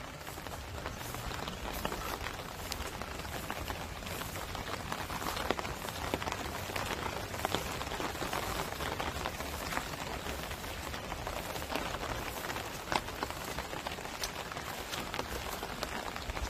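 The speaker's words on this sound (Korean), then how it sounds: "비가 내리는 날" Steady rain falls on a rural plot of farmland in Uiseong, a dense, even patter of drops hitting surfaces throughout, with occasional louder nearby splats and no speech.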